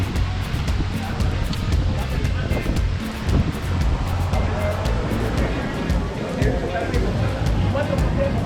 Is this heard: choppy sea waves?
yes